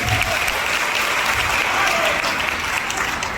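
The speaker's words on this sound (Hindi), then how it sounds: "एक जोरदार ताली बजाना भारत की number 1 company document table marketing के लिए" A hall full of people at a network marketing seminar claps loudly and continuously, a close, dense wall of applause that keeps an even level without breaks.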